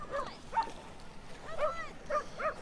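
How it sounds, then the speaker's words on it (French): Several dogs bark and yip in short, scattered bursts at an off-leash dog park, moderately close, with some whimpering between barks. "il y a des chiens partout"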